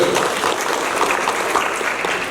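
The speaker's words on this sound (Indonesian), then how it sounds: "Tepuk tangan untuk UNJ." Steady applause from an audience at a university KIP college scholarship information event, dense and sustained throughout without pause.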